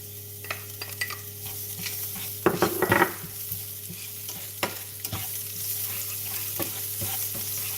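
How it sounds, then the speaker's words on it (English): Ginger and garlic fry in a hot pan while making mapo tofu, a steady low sizzle with stirring clatter and a short louder burst of scraping midway, no voices. "I'm going to increase the heat a little bit, and I'm going to put my ginger and my garlic."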